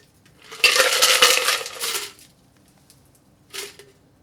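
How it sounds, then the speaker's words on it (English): Fine straining a tamarind sour cocktail into a chilled coupe: a bright, splashy pour runs for over a second, then a brief second trickle follows after a pause, close and clear with no talking. "Let's fine strain our chilled coupe."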